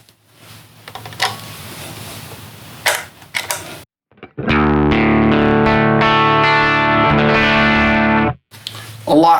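Guitar run through a Hologram Chroma Console with a little dry signal blended in plays a sustained, wavering chord for about four seconds, following a stretch of quiet picking and clicks.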